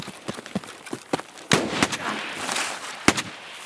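Gunfire in the shooter game Escape from Tarkov: several sharp, separate shots at irregular intervals, some distant and faint, a couple louder and nearer, over a noisy background.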